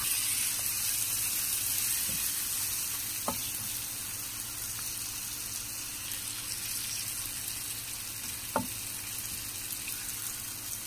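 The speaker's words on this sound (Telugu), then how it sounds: "ఇప్పుడైతే చేప ముక్కలు ఇందులో వేసేస్తానండి" Fish pieces sizzle in a pan of spicy curry base with chilli powder and green chillies, a steady broad frying hiss running throughout with a couple of brief sharp pops, alone without talk.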